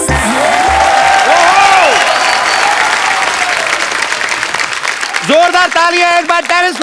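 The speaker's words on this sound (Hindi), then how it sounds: "जोरदार तालियां एक बार" A studio audience on a Hindi comedy talk show bursts into loud, sustained clapping and cheering, with music and voices layered over it and rising again toward the end.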